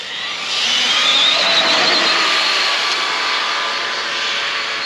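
A drone in flight gives a steady high whine and buzzing hum, rising as it nears and then holding at an even moderate loudness, with no one speaking.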